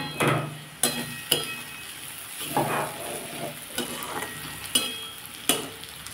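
Potatoes frying in a pan for a Bengali potato and yardlong bean fry, with a steady sizzle beneath repeated sharp scrapes and clinks of a spatula stirring, about eight strokes spread evenly, close and moderately loud.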